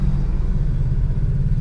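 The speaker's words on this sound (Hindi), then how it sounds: "अब ये आप देख सकते हो गाड़ी चल रही है।" A Honda Amaze diesel car driving after suspension repair, with its arm and bearings replaced, giving a steady low engine and road rumble heard from inside, without clunks or knocks.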